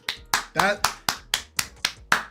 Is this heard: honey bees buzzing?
no